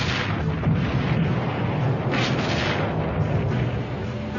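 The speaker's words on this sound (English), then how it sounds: "Now, equipped with a helicopter for spotting, her big guns speak once again." Big naval guns of the battleship Missouri firing during the Korean War bombardment of shore positions, heard as a continuous loud, rumbling barrage of booms with a dense low-frequency roar and no clear gaps.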